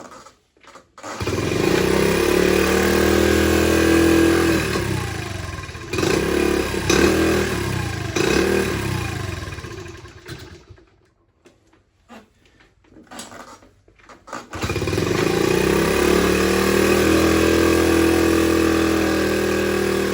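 A 1976 Honda CT70 engine with a carburetor needing cleaning runs rough and won't idle, its close, loud putter surging and sagging unevenly, nearly stalling into quiet midway before revving back up steadily.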